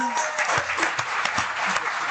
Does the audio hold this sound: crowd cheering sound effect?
yes